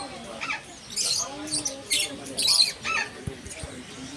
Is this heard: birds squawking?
yes